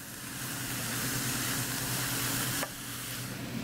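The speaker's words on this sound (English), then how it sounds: "Plop it all into your pan." Canned beans with their sticky coating tumble into a hot pan and sizzle loudly and steadily close by, the frying hiss dropping off abruptly near the end, with no voices.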